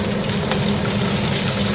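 Onions and green chillies dropped into hot oil in a pan: a steady, dense sizzling hiss with a crackling texture, close and even throughout, alone without talk.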